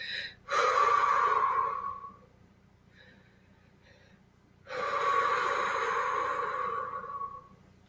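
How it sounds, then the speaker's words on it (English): Two long, slow breaths through pursed lips, each a breathy hiss of about two seconds, separated by a quiet pause with faint soft sounds. "The pursed lip breathing makes you have to work a little bit harder to exhale."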